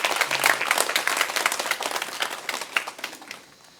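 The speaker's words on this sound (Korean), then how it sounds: "하나님께 영광의 박수를 한번 드리겠습니다" A church congregation at a Sunday service breaks into warm applause, dense clapping from many hands that swells quickly and then gradually tapers off.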